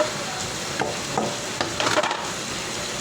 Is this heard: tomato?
yes